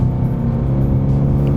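A 2022 Toyota GR86 with a six-speed manual drives at speed, its engine a loud, steady droning hum with a low rumble, heard close with no talk over it.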